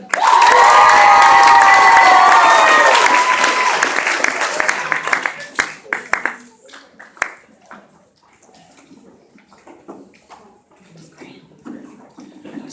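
A theatre banquet audience at an awards ceremony breaks into loud applause mixed with cheering and whoops, dense and close for several seconds, then thins to scattered claps and murmuring.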